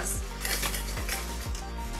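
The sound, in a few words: whisking in a bowl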